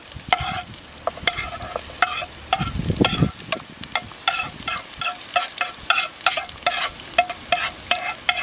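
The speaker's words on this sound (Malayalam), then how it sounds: "ഇപ്പോൾ നമ്മൾ സവാള, തക്കാളി, ഇഞ്ചി, വെളുത്തുള്ളി, പച്ചമുളക് ഇതെല്ലാം ഇട്ടൊന്ന് വഴറ്റാണ്." Onion, tomato, ginger, garlic and green chili sautéing in coconut oil in a pan, with steady sizzling and repeated rhythmic stirring scrapes, close and moderately loud, no talk.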